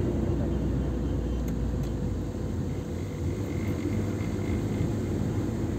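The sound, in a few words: car engine driving up a winding mountain road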